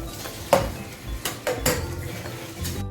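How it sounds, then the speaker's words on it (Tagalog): Garlic dropped into a pan while cooking a creamy tuna mushroom carbonara, heard as a few sharp metallic clinks and scrapes of utensils against the pan, spaced irregularly over quiet kitchen background. "lagay ko na po yung bawang"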